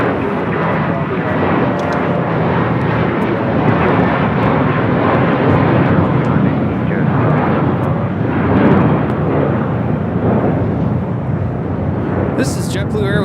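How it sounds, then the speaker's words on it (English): A JetBlue Airways Airbus A321 takes off from Los Angeles International Airport for West Palm Beach, its engines producing a loud, sustained roar that rises and falls slightly throughout, with a voice talking over it. "this is JetBlue Airways Flight 2010 taking off to West Palm Beach on an A321"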